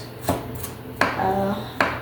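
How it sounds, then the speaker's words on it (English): Knife chopping vegetables on a chopping board while preparing a Cameroonian dish, with three sharp separate chops spaced under a second apart, close and clear over a low background hum. "I prefer chopping everything on the chopping board"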